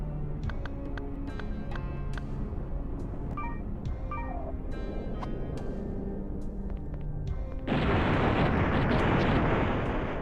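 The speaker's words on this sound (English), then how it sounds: "let's throw a grenade at this wall here" A grenade detonates against a wall in Overblood 2 after a stretch of quiet game tones and clicks, giving a sudden loud broadband blast that rumbles on steadily to the end.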